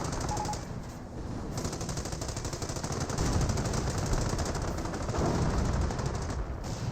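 Rapid machine-gun fire from a Greyhound armored car in Company of Heroes, a sustained rattling burst of gunfire that runs loud and continuous with slight swells, and no talking.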